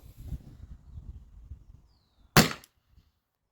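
A single sharp CO2 airsoft pistol shot from a Salt Supply S2 running on a large 20 oz CO2 tank, a loud crisp crack with a short hiss tail, alone after some low handling noise.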